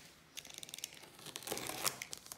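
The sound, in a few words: unpacking a diamond painting parcel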